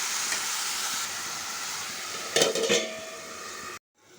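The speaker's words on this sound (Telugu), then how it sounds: "చూసారా, ఆనియన్స్ కొంచెం ఫ్రై అయ్యాయి కదా." Onions and green chillies frying in a pan for a chicken gravy, a steady close sizzle with a brief burst of stirring clatter near the end before it cuts to silence.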